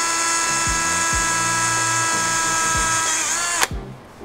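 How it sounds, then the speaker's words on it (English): A loud, whining power drill runs steadily with a few rhythmic knocks while drilling through a panel in a Toyota N80 Hilux, then cuts off abruptly near the end, leaving a brief quiet clatter. "Watch your hands and just drill straight through."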